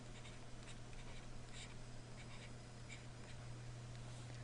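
Pen scratching across paper in short, faint strokes, steady and close, over a constant low hum with no talking.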